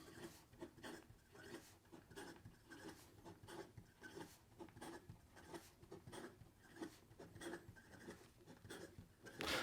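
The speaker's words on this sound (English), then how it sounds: "And then in regard to some fast writing" A Visconti Dual Touch fountain pen writes quickly on paper, giving a faint, close scratching with rapid rhythmic strokes that continues throughout without any talking.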